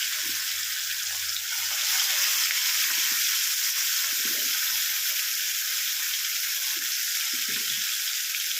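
Katla fish frying in hot oil, a steady loud hiss and crackle that runs unbroken throughout, with a few faint low clunks beneath.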